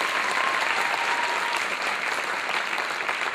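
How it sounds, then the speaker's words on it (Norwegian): An audience applauds at a district gymnastics championship in Honningsvåg in 2013, a steady, even wash of crowd clapping heard fairly close throughout. "Jeg synes at dere skal gi dem en applaus."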